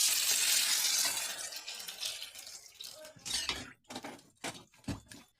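Taro and potato pieces being stirred and fried in a pan for a rohu fish curry, a wet sizzling hiss first, then scraping spoon strokes in uneven bursts, close and moderate.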